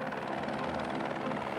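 A helicopter delivering emergency water supplies in the Swiss mountains, its rotor chopping steadily and loud, close and continuous, with no other sounds.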